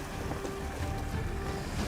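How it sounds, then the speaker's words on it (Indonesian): Steady wash of sea waves and wind rushing against a Sea Rider patrol boat of the Indonesian coast guard under way on open water, a continuous close, blustery roar with no voices. "Ya, ini gelombang"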